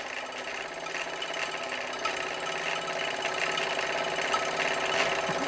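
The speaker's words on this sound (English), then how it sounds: "it's driving the generator, no problem at all" A small steam engine driving an electric generator produces a faint, continuous mechanical chatter with fast, even ticking, steady throughout with no voices.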